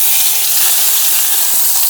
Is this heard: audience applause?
no